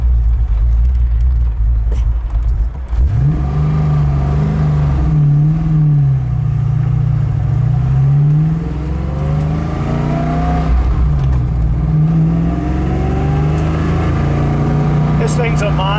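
A 1994 Bondurant Mustang on a test drive pulls hard, its engine droning loud and close with rising and falling revs as it accelerates through gears.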